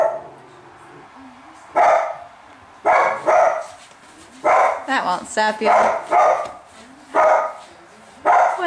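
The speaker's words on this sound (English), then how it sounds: "Oh, there goes your silly dog." A dog barks repeatedly nearby in a home during a baby's bath time, loud sharp barks in uneven bursts, some in quick clusters, while someone talks softly between them.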